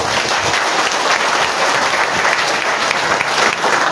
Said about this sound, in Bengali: তাদের জন্য একটা হাততালি দেবেন।